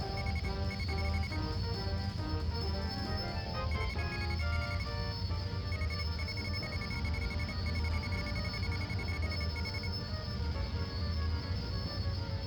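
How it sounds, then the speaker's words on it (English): Repeated electronic beeping from the Star Wars X-Wing flight game, a steady tonal alarm pattern running continuously over a constant cockpit engine hum, with no voices. "that beeping is going to happen a lot"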